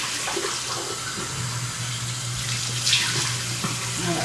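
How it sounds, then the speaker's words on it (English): Tap water runs steadily into a bathroom sink while a face is rinsed, a continuous close splashing hiss with small bursts of splatter throughout. "I'm going to go ahead and rinse my face."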